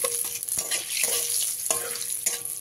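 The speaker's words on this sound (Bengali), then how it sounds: "ফোড়নটাকে হালকা ভাজা ভাজা করে নিতে হবে" Two dry red chillies and half a spoon of panch phoron crackle and sizzle steadily in hot oil, stirred with scraping strokes, close and with no talk.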